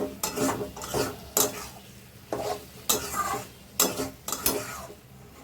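Chicken sautés in oil in a pot while a spoon stirs it in steady, rhythmic scraping strokes, each one a short clatter over a low sizzle, fairly quiet, no one speaking.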